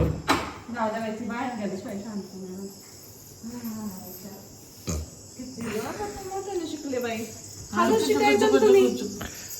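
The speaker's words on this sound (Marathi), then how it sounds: "किडे असतील" Constant high-pitched insect chirping runs through the whole clip, while nearby people talk loudly over it.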